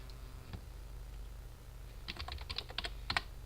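Keys on a computer keyboard clack in a quick run of about a dozen light, close taps, clustered near the end after a lone early press, over a steady low hum while a ship name is typed in Kerbal Space Program.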